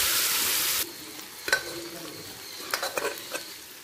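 Hot oil hisses loudly in a pan in a home kitchen for under a second, then stops, leaving a few scattered utensil clinks and light clatter.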